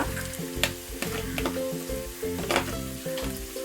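Sliced onion sautés with crushed ginger and garlic in a pan for a Kerala-style duck curry: a loud, steady frying hiss with occasional stirring scrapes, over a faint tonal background.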